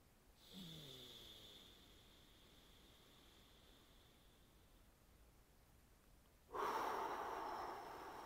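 A person takes slow, deep breaths in and out: a soft, drawn-out airy inhale followed much later by a louder, rushing exhale, close and alone against quiet room noise.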